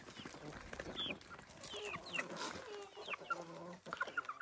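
Several native free-range hens cluck in overlapping bursts with a rooster's calls mixed in as they are fed corn, close by and busy, with faint voices in the background.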